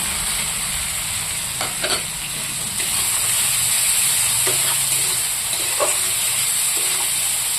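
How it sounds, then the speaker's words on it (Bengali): Tomatoes fry in oil with spices for a fish curry, a loud, steady sizzle with steam hiss that runs throughout, broken by a few light stirring scrapes and no speech. "টমেটোটা তেল মশলার সাথে একটু কষিয়ে নেব।"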